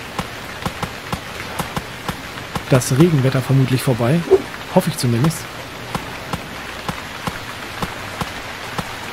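Rain patters in the survival video game Stranded Deep as a soft steady hiss dotted with sharp drop ticks. Someone speaks briefly over it partway through.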